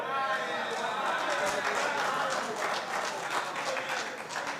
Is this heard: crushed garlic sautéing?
no